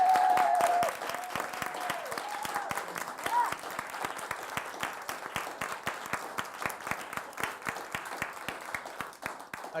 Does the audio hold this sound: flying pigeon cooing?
no